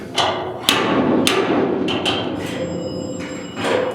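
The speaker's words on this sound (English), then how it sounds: "Give it a light tap and you can see the dent popping out on you." Light hammer taps on the dented cab bodywork of a 1956 Mercury truck: a handful of sharp, close metallic knocks spaced irregularly over a resonant shop background.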